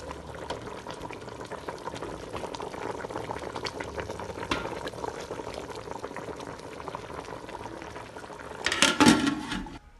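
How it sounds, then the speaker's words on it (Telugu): Fish curry simmers and bubbles steadily in a pot as it is stirred, a close, even boiling sound that ends with a brief louder clatter near the finish. "ఇట్లా తిప్పాలి గైస్, చేపల కూర అనేది నీళ్ళు పెట్టకూడదు, ఇలా తిప్పాలి."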